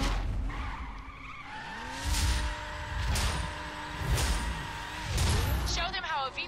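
Street race car tires skid and squeal in The Crew, with several loud screeching swells arriving in a rough rhythm over engine noise and game sounds.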